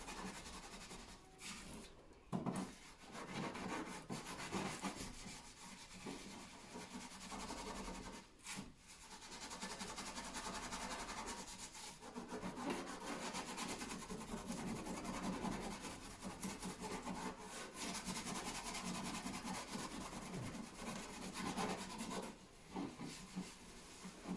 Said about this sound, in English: Then with your scourer, just give it a good scrub.